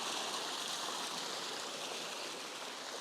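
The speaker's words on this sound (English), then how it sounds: "you can just come and sit and listen to the water" Water flows steadily through a stream in a tropical botanical garden, a continuous close rushing wash with no pauses and no voices.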